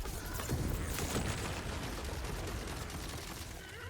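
Loot explosions in the video game Tiny Tina's Wonderlands roar as a thick, steady rattle of rapid blasts and clanking effects, loud and unbroken for a few seconds with no voices.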